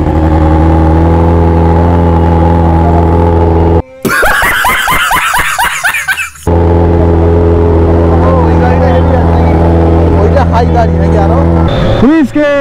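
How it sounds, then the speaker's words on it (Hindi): A superbike with carbon fibre wheels fires up and settles into a loud, steady idle, then a sudden burst of hard revving, more idling, and a final sharp rev near the end. "ये रहा इसका इग्निशन सीक्वेंस"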